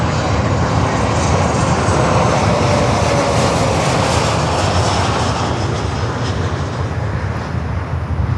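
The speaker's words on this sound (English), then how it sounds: "we have a T6 in the air, currently southwest of the airport" A T-6 aircraft flies near an airport, a loud continuous engine roar with a broad rumbling drone that holds steady, with no voices over it.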